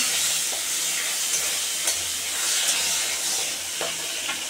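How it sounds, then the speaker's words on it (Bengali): Shrimp frying in hot oil in a wok, a steady crackling sizzle with occasional sharper pops and spits, fairly close and continuous without talk. "এখন চিংড়ি মাছগুলো দেবো, আগে ভেজে নিই।"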